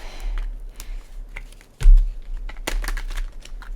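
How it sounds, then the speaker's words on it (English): Tarot cards are shuffled close by, with a run of light rapid taps and riffles and one sharper louder burst midway. "I'm just shuffling some cards over here"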